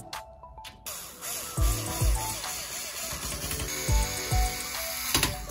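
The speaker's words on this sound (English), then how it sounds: "So it's time to screw it in." Parts are screwed in during a PC assembly, producing ratcheting clicks and mechanical rattles punctuated by several sharp, close knocks and thumps at irregular intervals.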